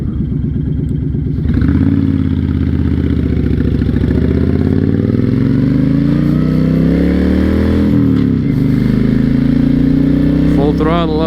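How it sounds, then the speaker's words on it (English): A 2006 Honda VTX1300 motorcycle engine runs steadily and loudly up close, a smooth low rumble that rises gradually in pitch as it revs, with a brief dip near the end. "Typically when you have a bike that's too loud, it doesn't really idle as smooth, but this one is real smooth."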